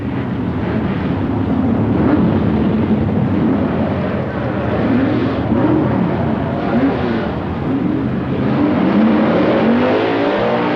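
A 1960s Dodge drag car launches down the strip at the 1964 NHRA Nationals, its loud, continuous engine roar sustained throughout with a crowd-like wash behind it.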